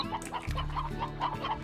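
A hen clucking in the Slime Rancher video game, a quick series of close, rhythmic clucks repeating steadily with no talk over them.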